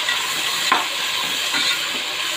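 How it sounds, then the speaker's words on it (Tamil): Chopped tomatoes sauté in a hot pan with softened onions for a homemade rooster curry, giving off a steady, close sizzling hiss with a faint stir or scrape now and then, and no talking. "தக்காளி சேர்த்துட்டு நல்லா வதக்கிக்கலாம்."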